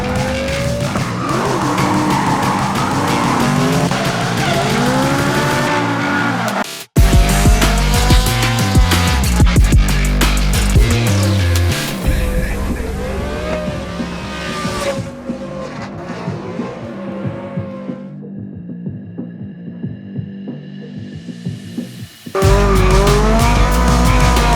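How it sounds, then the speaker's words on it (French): Drifting cars at a drift event, tires squealing and skidding in long sweeping screeches over roaring, revving engines, loud and close, with brief gaps as cars pass and a quieter stretch before the noise returns. "Le drift, une danse où les voitures glissent au rythme de leurs chevaux."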